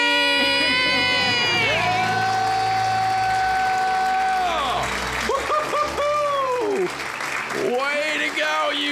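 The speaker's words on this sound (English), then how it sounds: "Let's hear a debt-free scream. 3, 2, 1. We're debt-free!" A small group of people lets out a loud, sustained celebratory scream with several voices overlapping, breaking into shorter excited shouts and whoops toward the end.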